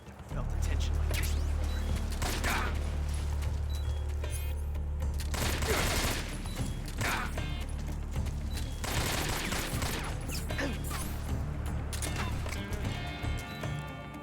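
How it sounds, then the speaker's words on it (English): Repeated pistol gunshots from a 1911 in the stealth game Metal Gear Solid 3, a series of sharp bursts scattered through steady game music and ambience, with a voice talking over parts of it. "That's the 1911 gunshot noise I heard."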